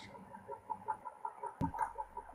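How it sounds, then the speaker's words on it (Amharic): A hen clucks softly in the background, a string of short, low clucks repeating through the moment with one brief louder knock partway through, no one speaking. "ዶሮዋ ከቆጡ ይመስላል ድምፁ ራሱ።"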